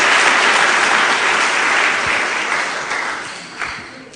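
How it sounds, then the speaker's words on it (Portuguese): A church congregation claps loudly in a dense, continuous round of applause that gradually thins toward the end, with a few stray claps standing out. "Dê uma salva de palmas a Jesus."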